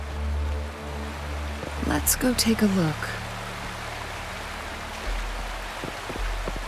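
A waterfall in the video game Wuthering Waves gives a steady, hissing rush of falling water that runs beneath everything, while a voice speaks briefly over it in the middle.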